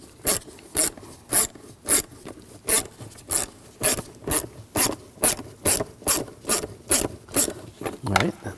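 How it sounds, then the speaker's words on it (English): A ratchet fitted with a 6mm socket loosens a hose clamp on a BMW 328i with a 3.0L inline-six. About eighteen rhythmic clicking strokes run steadily and close up, with no talking. "Loosen up that clamp."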